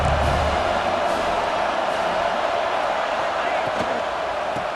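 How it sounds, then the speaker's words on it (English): A football stadium crowd roars steadily at a rivalry college game, a loud, sustained wash of noise building for the defense on third down, with no break through the whole stretch. "Decibels rising as the crowd gets behind this defense on 3rd down"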